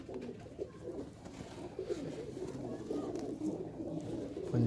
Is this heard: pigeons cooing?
yes